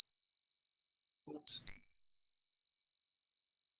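A steady high-pitched electronic beep sounds through an online meeting, holding continuously for the whole stretch apart from one brief break near the middle, loud and alone.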